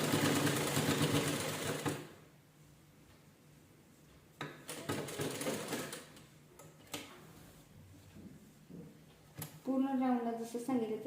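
A sewing machine stitches the neckline of a blouse in short bursts of rapid mechanical ticking, stopping and starting between runs, while someone talks over and between the stitching.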